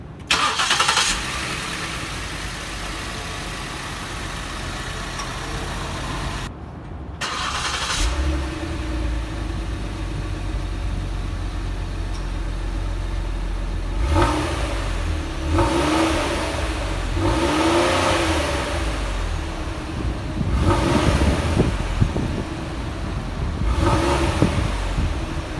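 A 2017 Ford Explorer Platinum's 3.5-liter EcoBoost twin-turbo V6 cranks and starts, settles into a steady idle, then gives several sharp revs later on, heard close and fairly loud.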